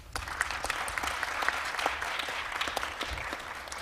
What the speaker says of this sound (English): Please give her with a big round of applause again.